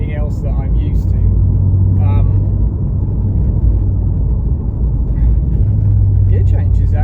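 A stock Toyota Supra MK4 drives along with a steady low engine drone, the pitch dipping and returning around gear changes, while someone talks over the cabin rumble.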